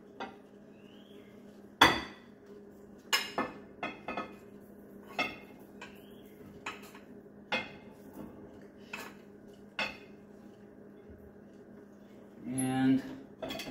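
A spoon scrapes and clinks against plates as rice is served for shrimp curry, a dozen sharp, close metallic taps spaced irregularly over quiet background, ending with a brief louder rattle.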